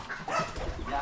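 A dog at a farm with birds, rabbits and goats gives a short bark or yelp, brief and moderately close, among soft background noise.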